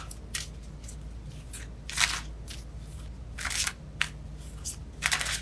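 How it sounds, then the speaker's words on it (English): Tarot cards being shuffled during a reading, with soft papery riffles and snaps in irregular bursts, close and fairly quiet, and no talk. "All right, I keep shuffling."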